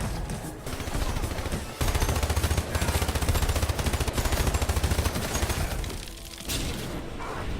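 Rapid bursts of gunfire fill a wave-based shooter game called HYPERCHARGE, dense automatic fire rattling continuously with brief gaps between volleys, loud and close over a busy game soundtrack.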